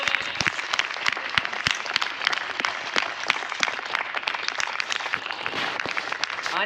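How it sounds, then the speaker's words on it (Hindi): Vigorous crowd applause at a DXN business program, many hands clapping in a thick, even roar with crisp individual claps popping out, holding loud and steady from start to finish without talk. "जबरदस्त तालियां।"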